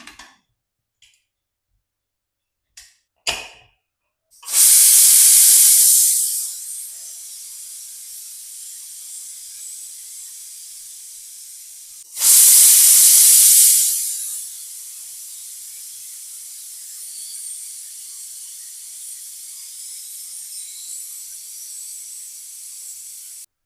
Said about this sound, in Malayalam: പ്രഷർ കുക്കർ അടച്ചു വെച്ച് രണ്ട് ഫിസിൽ കേൾക്കുന്നത് വരെ വേവിച്ചെടുക്കാം